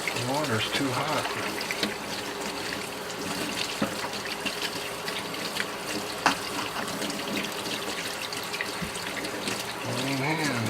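A tap runs steadily into a sink, giving a continuous broadband rush of water throughout, with faint voices and small clinks in the background.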